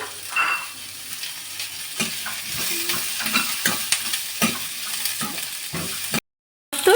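Sizzling frying in a pan with ginger and garlic just added, a loud continuous hiss broken by repeated stirring scrapes, ending in a brief silence.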